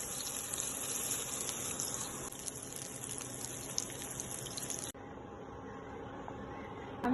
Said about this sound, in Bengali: তেল দিয়ে নিচ্ছি